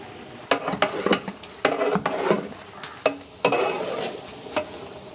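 About six kilos of chopped tomatoes go into a large pot of Ramadan nombu kanji, giving a loud close sizzle with several stirring scrapes and thuds of ingredients hitting hot oil.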